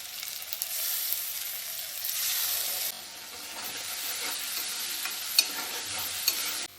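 Dry chilli powder, red chilli powder, turmeric, coriander and cumin go into hot oil. A soft sizzle sounds under stirring and scraping, with a few sharp clicks of a utensil against the pan.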